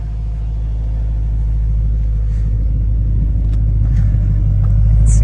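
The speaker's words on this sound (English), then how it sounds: "The car's currently warming up right now." A BMW M3 engine idling while warming up, a steady low rumble that holds close and loud throughout with no talking.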